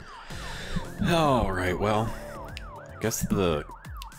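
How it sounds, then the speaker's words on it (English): Police sirens wail with a repeating up-and-down yelp at moderate volume while people talk over them throughout. "you can hear sirens in the distance"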